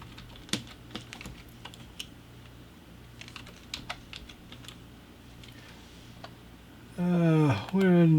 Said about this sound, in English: let's just type in wooden decor